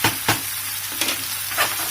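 Garlic tempering sizzles in a pan of chana, bathua or mustard-green saag, a steady frying hiss with a few louder bursts as it is stirred, close and alone.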